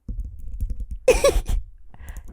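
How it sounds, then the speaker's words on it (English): Fingernails clicking and tapping on hard objects, a quick run of small close clicks with a brief denser burst in the middle, heard alone without talk. "I like clicking my nails on things"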